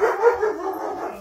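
A dog nearby gives a short run of high yips and whimpering barks, fairly loud and close, with nothing else going on.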